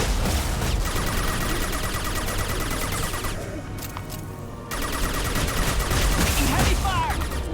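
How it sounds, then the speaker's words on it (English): Dense sustained gunfire rattles through a Mass Effect 2 firefight, loud rapid bursts stacked over each other, with a brief lull before the shooting resumes at full intensity; voices are heard among the shots. "Taking heavy fire!"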